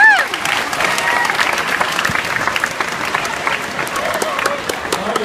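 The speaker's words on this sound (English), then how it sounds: "Now you're clapping for a guy that just ran that lady" An audience claps through several seconds at a motivational speech event, a loud, steady patter of many hands with voices and shouts mixed in.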